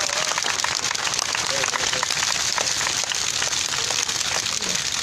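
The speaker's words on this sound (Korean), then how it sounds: "우리 큰 박수로 할머니 환영하시기 바랍니다" Loud, sustained audience applause greets an elderly grandmother, Lee Ok-seon, at the 1387th Wednesday Demonstration for the Japanese military sexual slavery issue: dense outdoor clapping runs steadily throughout with no pauses.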